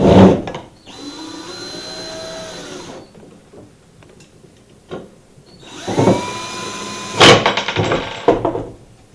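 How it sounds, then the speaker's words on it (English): A power drill whirs in two bursts, its pitch rising and falling as it tightens bolts on a rigid heddle loom, with a clunk and clatter near the end. "And I'm going to take the drill"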